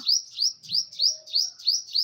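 Parrots perched in a henna tree in a home garden give a rapid series of about seven sharp, high calls in an even rhythm, fairly close and with no talking.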